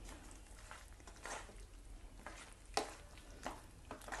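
Chilli chicken gravy is stirred in a pan while it simmers, making faint wet scraping and squishing strokes over a low, steady bubbling sizzle. The sound stays quiet and close throughout.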